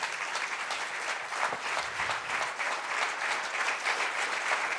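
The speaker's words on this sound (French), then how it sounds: "nous allons, je pense, applaudir les deux joueurs" An audience applauds two chess players after a rapid game, even sustained clapping from a modest crowd at moderate distance, steady throughout with no talk over it.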